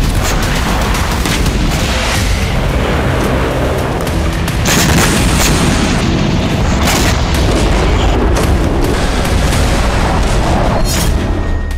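Israeli strikes in Syria produce loud, continuous rumbling explosions with sharp booming bursts layered throughout a dense roar, and no speech.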